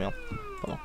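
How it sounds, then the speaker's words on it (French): A game cat in Scribblenauts Unlimited gives a couple of short meows that mix with speech and a steady electronic tone. "Ah non, c'est un chat"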